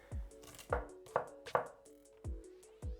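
A knife chops garlic and coriander on a board for an Amritsari fish fry, with sharp, distinct strikes at an uneven, unhurried pace. The sound is close but soft, and no voice is heard.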